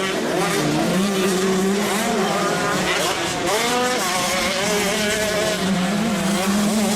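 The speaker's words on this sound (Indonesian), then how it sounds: "Wadidaw, ada motor cross." Motocross motorcycle engine sound effect played by a toy, a continuous buzzing, revving drone that rises and falls in pitch, loud and close, with no talking.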